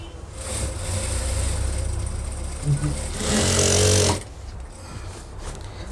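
A sewing machine stitches school pants, a moderate mechanical whir running for a few seconds and rising briefly louder before stopping, with a voice speaking nearby.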